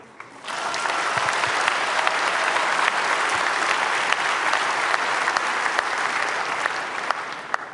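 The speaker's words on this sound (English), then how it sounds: "welcome them with a huge round of applause" An audience at a Bitcoin talk gives a sustained round of applause that rises quickly and holds steady as a dense clatter of many hands clapping.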